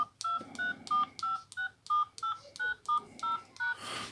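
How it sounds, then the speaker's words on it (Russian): Keypad tones from an original Nokia 3330 mobile phone: about eleven short, clean electronic beeps pressed in a steady rhythm, each clearly separated, close and loud with no talking. "Клавиши все работают."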